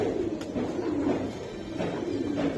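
Racing Giribaz pigeons, club-winning birds that have placed first over 100 km, coo steadily and close by, with a low continuous murmur of overlapping calls throughout.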